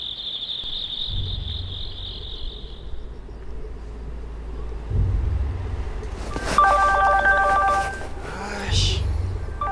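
A mobile phone ringtone sounds at night as a loud, tonal, repeating electronic melody in the latter half, after a shrill insect-like chirp and low thumps.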